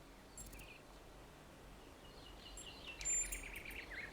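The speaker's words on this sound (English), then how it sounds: "Do you hear the birds chirping outside the door?" Birds chirp faintly in the distance in The Talos Principle II: sparse high tweets come and go over a quiet outdoor ambience, with a brighter cluster of calls near the end and no voices.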